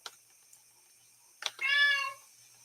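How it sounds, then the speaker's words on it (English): A cat lets out a single drawn-out meow, loud and close, after a few faint clicks and knocks in an otherwise quiet room. "Hold on a minute, Scar, get the cat before she falls, dude."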